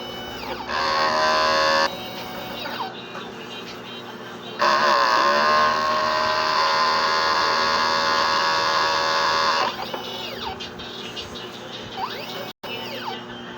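A 30 cm DTF printer runs a print head cleaning cycle, giving a steady mechanical hum and whine that swells in loud sustained stretches with pump and carriage motor tones, then drops back to a lower drone.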